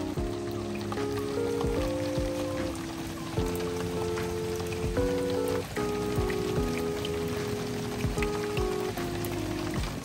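Rain falls outside a cottage window in England, a soft patter and drip steady throughout, with gentle music and faint tonal sounds playing over it and no one speaking.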